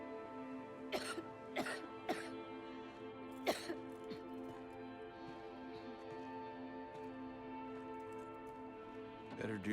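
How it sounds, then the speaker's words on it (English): A character in the Silent Hill 2 video game coughs in several harsh bursts, clustered early and again mid-way, over a steady droning game background. "Better do something about that cough."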